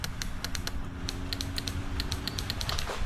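Rapid dry clicking from the electric start relay of a quad bike on a farm, repeated ticks in quick irregular bursts, close and fairly quiet with no talk.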